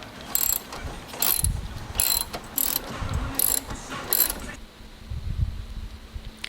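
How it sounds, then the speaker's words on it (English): A 1/2 inch socket wrench loosens bolts on a BMW stress bar, six quick close ratcheting bursts of clicks in an uneven rhythm, followed by a few soft handling knocks. "we're going to remove the ones on the passenger side first with the 1/2 inch socket wrench, and we're just going to go ahead and loosen those"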